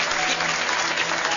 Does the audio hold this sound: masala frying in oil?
no